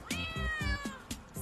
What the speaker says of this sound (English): these cats in central Italy were perplexed by their town's new winter coat